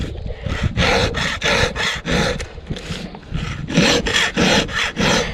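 Flat file rasping across a chainsaw chain during quick old-school sharpening, a loud close series of rhythmic strokes in bursts of several, with short pauses between groups and no talking.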